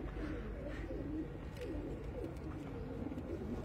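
Red pigeons cooing softly in a low, steady murmur, several birds close together with a faint background hum and occasional light clicks.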